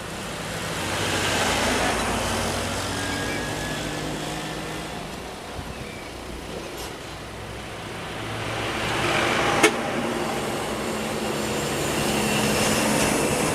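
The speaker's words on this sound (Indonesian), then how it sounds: "Ini mobil bawa sapinya." A car carrying cows drives past outdoors, a steady engine and road rumble that swells, fades and swells again over background traffic noise, with no talk.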